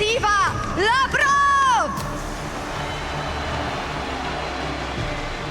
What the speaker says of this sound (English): they do be booing